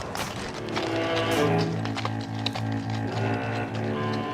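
A group of men on horseback gallops up to a stopped train at Pinto station, with rhythmic hoofbeats over a steady low rumble, moderately loud and continuous, and no voices.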